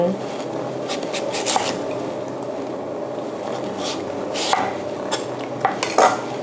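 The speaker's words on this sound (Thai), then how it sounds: "เราก็ หั่น ให้เป็นแท่ง" A knife slices taro into sticks on a cutting board, giving sparse, crisp clicks and taps spread over a low, steady background.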